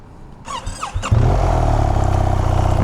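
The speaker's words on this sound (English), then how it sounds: "the 1300cc boxer twin engine comes to life" A BMW R 1300 GS Adventure's 1300cc boxer twin starts up: a brief starter whine and a couple of clicks, then the engine catches with a loud thump and settles into a steady, throbbing idle close by.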